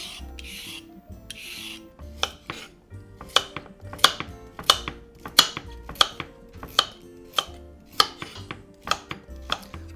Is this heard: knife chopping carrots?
yes